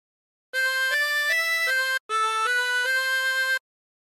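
A 24-hole tremolo harmonica plays Waltzing Matilda: a steady, reedy melody of held chordal notes with the characteristic wavering tremolo, two phrases split by a brief breath gap, close and clear with no talking.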